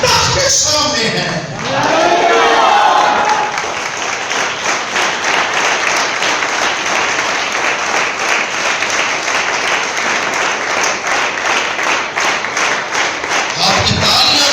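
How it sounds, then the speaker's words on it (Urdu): A congregation at a church sermon claps in sustained, dense applause that runs for over ten seconds, with a preacher's voice briefly heard at the start and at the close. "آپ کی تالیاں مردہ ہیں"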